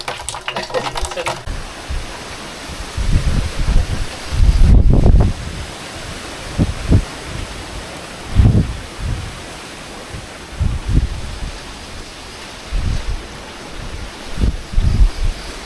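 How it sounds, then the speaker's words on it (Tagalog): Strong wind roars and gusts against the microphone, surging loudly in waves with rumbling buffets and a steady rushing hiss underneath. "Lakas ng hangin."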